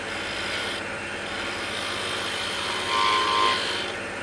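Wood turning on a lathe, with a tool trimming a small wooden icicle ornament to a straight taper. A steady close rasping hiss of the cut runs throughout and swells briefly near the end, with no voice over it.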